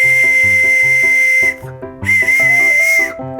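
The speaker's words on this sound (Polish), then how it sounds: "jak wykonać prosty gwizdek," A shrill, steady whistle made from an elder branch blows in two long bursts separated by a short break, loud and close.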